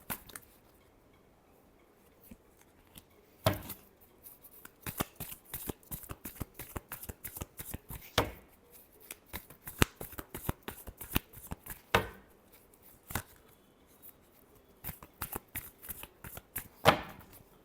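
Tarot cards being shuffled by hand in a run of crisp, rapid riffling flicks and slaps, close and fairly loud, with short pauses between bursts and no talking.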